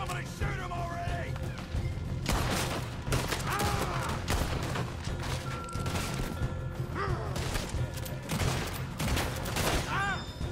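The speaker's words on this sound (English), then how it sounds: "Somebody shoot him already." Gunfire in Red Dead Redemption 2, a dense, loud fusillade of repeated shots and crashing impacts that runs continuously, with game voices talking through it.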